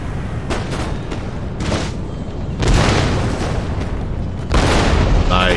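Artillery volleys in the strategy game Empire: Total War, a series of heavy booming bursts with rumbling decay, several discharges growing louder toward the end.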